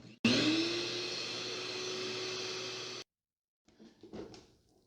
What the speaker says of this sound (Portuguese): vocês já aumentam a velocidade da batedeira para a máxima